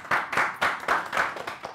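An audience at a rap event claps in a steady, even rhythm, close and fairly loud, each sharp slap landing about four times a second with no talking over it.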